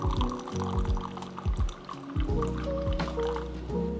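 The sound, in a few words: water pouring from a gooseneck kettle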